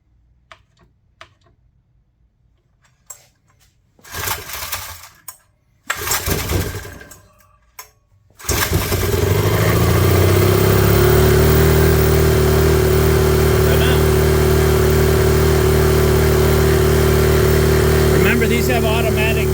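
After a few quiet clicks and two short cranking bursts, a Honda EM400 motorcycle fires up and settles into a loud, steady run on its automatic choke.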